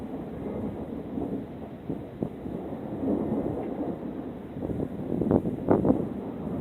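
Continuous low rolling thunder from a lightning storm high above the clouds, a steady rumbling bed that swells into several louder booming surges near the end, heard alone without speech.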